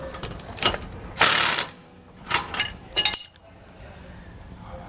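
A wrench loosens a bolt on a Roadmaster rear anti-sway bar of a 2019 Coachmen Pursuit motorhome, giving a few bursts of metallic ratcheting and clinking separated by short pauses, close by.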